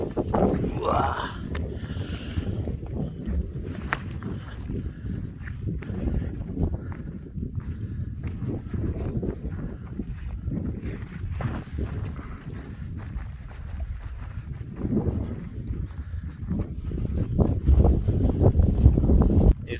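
Gusty wind buffeting an unshielded microphone on a hike near Todmorden, low rumbling thumps swelling and fading throughout and growing stronger toward the end, with some talk.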